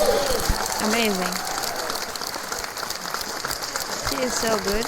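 Applause for a pianist after a stripped-down live song performance, a steady wash of clapping throughout with voices talking over it.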